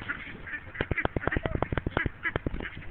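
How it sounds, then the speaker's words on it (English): Ducks quack in a rapid, noisy cluster, many loud calls overlapping close by, tapering off toward the end. "You can hear them squacking,"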